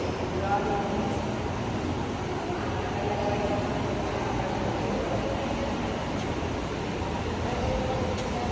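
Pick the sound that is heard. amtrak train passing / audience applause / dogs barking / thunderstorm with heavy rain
amtrak train passing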